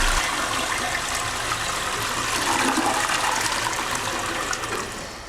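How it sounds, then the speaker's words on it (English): A toilet flushes in one continuous, loud gushing rush of water that holds steady for several seconds and then tapers off near the end. "Then you won't waste as much water when you flush your toilet."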